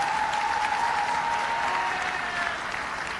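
Steady, sustained applause from a large crowd at a university commencement ceremony, a dense wash of clapping that holds evenly throughout without a break.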